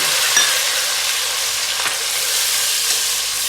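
Tomatoes sizzle and fry with garlic and ginger in a pan for an aloo baigan curry, a steady dense crackle with faint stirring taps, close and fairly loud, with no voices.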